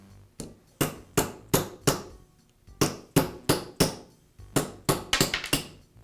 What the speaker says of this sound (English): to tap the bearings out